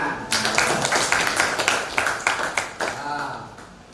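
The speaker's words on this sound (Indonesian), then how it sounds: "Oke, tepuk tangan." A school class claps together during a lesson, a close burst of dense, uneven hand claps that swells quickly and then thins out over about three seconds, with some voices mixed in.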